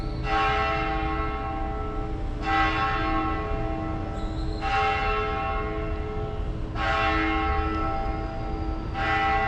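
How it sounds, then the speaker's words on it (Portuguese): A church bell in Mérida, Mexico rings in repeated strikes a couple of seconds apart, each resonant peal decaying into the next over a continuous outdoor background, loud and fairly close, with no talking. "Estão escutando o sino da igreja?"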